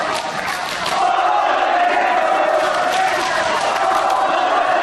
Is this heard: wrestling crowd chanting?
yes